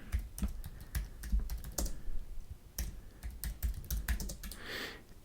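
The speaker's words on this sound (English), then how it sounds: "So I'm going to type that in." Close, quiet typing on a computer keyboard: irregular runs of crisp key clicks with short pauses and a few heavier keystrokes, no speech.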